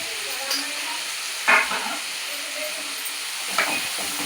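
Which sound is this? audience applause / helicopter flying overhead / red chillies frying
red chillies frying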